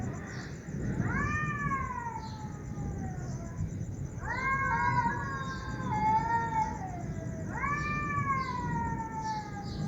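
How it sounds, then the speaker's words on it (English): Two female cats cry in long, wavering meows that rise and fall, three drawn-out wails in turn over a steady outdoor rumble, fairly close and clear. "Yes, these cats are crying."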